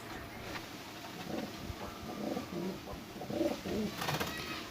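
Rampuri pigeons coo softly in a home loft, giving several low, throaty rolling calls that rise and fall over faint background noise, with no voices.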